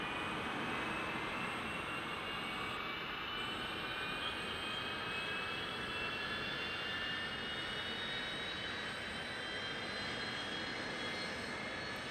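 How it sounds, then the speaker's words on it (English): The A-10 jet engine in a video game spools up, its steady rushing roar topped by a thin turbine whine that slowly climbs in pitch, heard alone and at a constant level. "RPM, once that stabilizes, we'll turn on the right engine."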